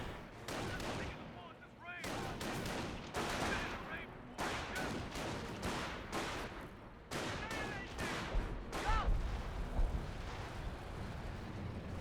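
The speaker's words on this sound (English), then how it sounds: "Here's some more from half-track barrages running on in somewhere." Half-track artillery barrages in the Company of Heroes 1 video game, a dense run of repeated booming impacts and crackling blasts over twelve seconds, with a deeper rumbling hit near the end, mixed with battle noise.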